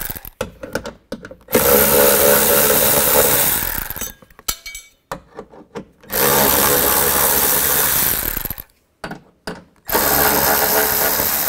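Cordless power drill driving a 10mm socket to remove door brackets on a 2005-2015 Nissan Xterra, loud whirring in three long bursts separated by short pauses and clicks.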